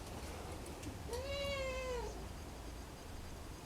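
A single drawn-out cat meow, wanting to be let in, rising then falling over about a second, fairly close against a quiet background hiss.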